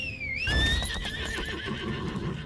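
A video game horse in Lost Ark whinnies loudly up close, a long shrill neigh falling and wavering, with faint hoof thuds underneath.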